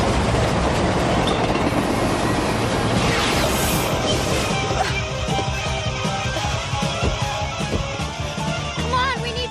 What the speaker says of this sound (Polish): Nadjeżdża pociąg.